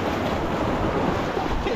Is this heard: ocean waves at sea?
yes